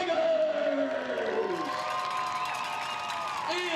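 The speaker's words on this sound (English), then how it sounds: "Let's give a round of applause for Team" Stadium crowd at the 2024 Gridiron Football All-American Bowl game cheering, whooping and applauding for Team Tigers, a loud sustained roar with rising shouts that fades slightly before another burst near the end.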